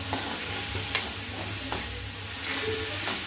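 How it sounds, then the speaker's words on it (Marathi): Tomato, onion and curry leaves stir-frying with ginger garlic paste in a hot pan, a continuous close sizzle with soft scraping and stirring sounds and an occasional small clink, no talking. "त्याच्यामध्ये मी थोडीशी आलं लसूण पेस्ट घातली आणि हे पूर्ण मिक्स करून घ्यायचं"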